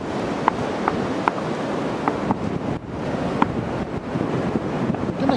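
Ocean waves wash onto a beach at night during winter fishing in Aberdeenshire, a steady rushing surf with wind buffeting the microphone and a few faint clicks, no talking.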